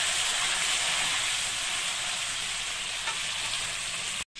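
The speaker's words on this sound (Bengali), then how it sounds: "ফুলকপিটাও ভেজে তুলে নেব" Cauliflower pieces coated in salt and turmeric fry in hot oil, for a katla fish curry with potato and cauliflower; a dense, continuous hissing sizzle holds close and even before cutting off abruptly at the very end.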